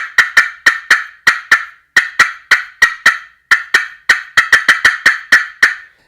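A slate friction turkey call plays loud, close, sharp cutting yelps, rapid clucks in quick uneven bursts with short gaps between runs, used for spring turkey hunting.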